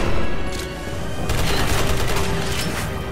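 Gunshots in the survival horror game Resident Evil 6, a dense, loud barrage of blasts blurring together into a continuous roar with a few sharper bursts standing out.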